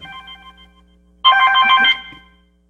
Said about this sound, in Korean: 전화가 자꾸 오는데요